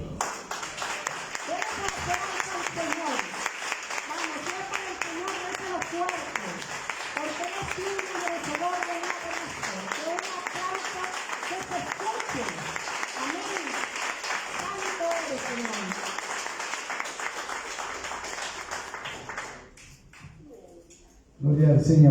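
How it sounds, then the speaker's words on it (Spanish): Church congregation applauding at length, a sustained dense clapping under a voice speaking over it, fading out near the end before a sudden loud burst. "Denle otro aplauso al Señor."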